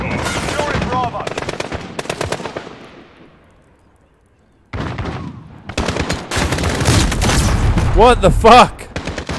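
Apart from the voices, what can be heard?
gunfire in Modern Warfare video game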